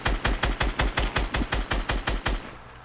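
A rapid burst of automatic gunfire in the battle royale game Fortnite, about a dozen evenly spaced loud shots in quick succession, then a short fading tail.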